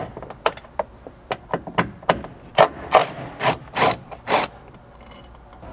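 A ratchet working the upper roof trim mounting screw on a Subaru Forester, a rapid run of about a dozen crisp clicks that grow louder, slower and more rasping toward the end, close up.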